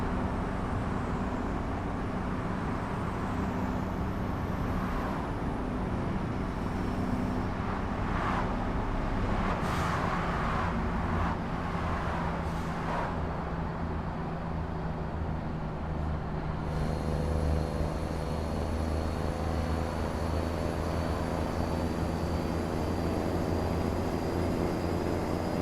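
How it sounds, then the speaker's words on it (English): A Kenworth Legend SAR pulling a Freighter T-Liner triple road train loaded with hay in American Truck Simulator, a steady low engine drone and road rumble with a brief burst of rattling noise partway through. "Rolling with the Kenworth Legend SAR and Freighter T-Liner Triple."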